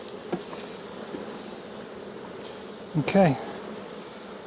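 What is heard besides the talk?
honeybees buzzing while dumping a nuc into a hive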